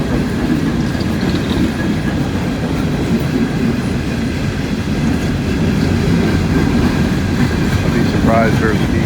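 A long freight train of empty cars, hauled by three locomotives, rolls steadily past at Thurmond with a loud, continuous rumble and rhythmic wheel clatter, and a brief wheel squeal rises near the end.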